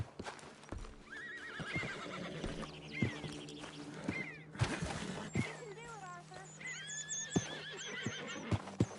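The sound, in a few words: horse neighing, from the video game Red Dead Redemption 2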